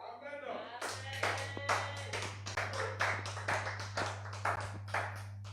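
Church congregation clapping hands together in a quick, steady rhythm, a dense burst of many close claps over a low hum, with a voice briefly audible at the start.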